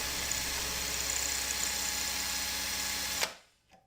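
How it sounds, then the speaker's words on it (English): Power drill running steadily in reverse, driving a bolt extractor into the head of a stripped screw, a continuous close whine with gritty grinding that stops abruptly near the end. "make sure that the drill is in reverse. Go ahead and put the extractor into the head of the screw."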